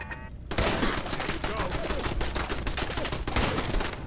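Turret gunfire in Fallout 4 erupts suddenly after a short sung voice, a dense, continuous rattle of rapid shots that stays loud and close for the rest of the moment.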